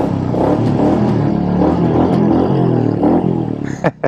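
A customized Royal Enfield Shotgun 350 motorcycle rides and accelerates, its engine droning loud and steady with rising revs, then briefly dropping away before a couple of sharp final bursts.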